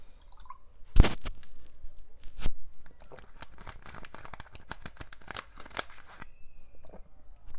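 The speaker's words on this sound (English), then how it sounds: "I'm so sorry you guys have to hear me fidgeting with my bottle" Someone handles a sparkling water bottle at close range, with one sharp click or crinkle early, then scattered soft crackles and taps over a quiet background.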